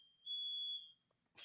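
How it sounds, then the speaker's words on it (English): A household smoke alarm gives one shrill, steady high-pitched beep lasting about half a second, loud and close, followed by a short quiet gap before a burst of other noise. "fire alarms keep going off"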